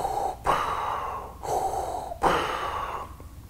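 A person's voice imitates Darth Vader's mechanical breathing: three slow, rhythmic hissing breaths, each a drawn-in gasp followed by a long exhale, close and moderately loud.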